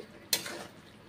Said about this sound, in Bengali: এইভাবে খুন্তি করে নেড়ে চেড়ে কষে কষে রান্না করছি